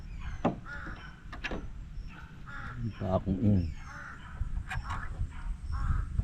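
A crow caws several times nearby, harsh repeated calls over outdoor background noise, with people talking intermittently.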